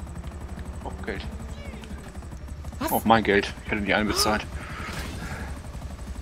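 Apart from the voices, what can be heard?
helicopter in the video game GTA 5 Online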